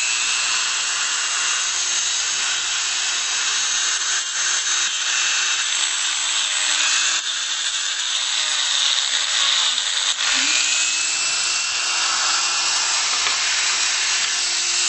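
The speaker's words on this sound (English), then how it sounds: "we're going to make this last little cut with a Dremel, just to release the last of it" A Dremel rotary tool whines at a high pitch through one continuous cut, loud and close, holding a steady tone with slight dips in speed.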